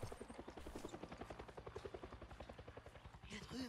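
The rapid, steady rotor chop of a helicopter in the video game Far Cry 6 runs throughout, with a voice speaking over it near the start and the end.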